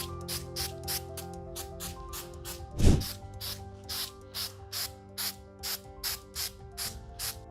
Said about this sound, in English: I'm gonna aim straight down and I'm gonna pump the spray head